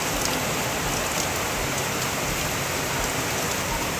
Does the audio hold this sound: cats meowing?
no